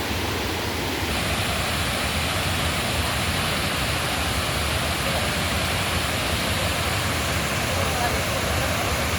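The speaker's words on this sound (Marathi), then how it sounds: "सुंदर असं धबधबा" A powerful, unbroken roar of rushing water fills the air, loud and close, from a waterfall by Dhutpapeshwar temple in Rajapur, Konkan.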